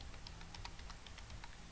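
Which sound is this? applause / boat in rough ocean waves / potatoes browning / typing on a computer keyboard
typing on a computer keyboard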